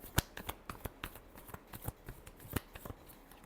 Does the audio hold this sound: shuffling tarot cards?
yes